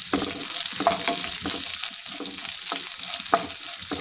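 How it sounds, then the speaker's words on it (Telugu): Onion pieces fry in a pan after a tempering of mustard seeds, cumin and curry leaves. A continuous sizzle runs under regular spatula scrapes and stirs, close up, with no voices. "ఉల్లిపాయ ముక్కలన్నీ ఒక 2 మినిట్స్ ఫ్రై చేసుకోవాలి."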